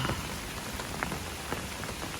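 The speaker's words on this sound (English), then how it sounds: "So now we'll be hiking in the rain." Steady rain falling on a hiking trail during a thunderstorm, a constant close hiss of drops striking the ground and leaves, with a few sharper nearby drips and no talking.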